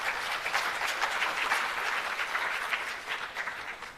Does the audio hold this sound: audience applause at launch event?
yes